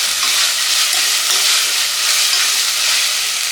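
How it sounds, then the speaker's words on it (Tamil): Prawns fry in a hot pan with a loud, continuous sizzle that crackles evenly throughout, close up and with no voices. "சரி, நல்லா ஃப்ரை ஆகிடுச்சு."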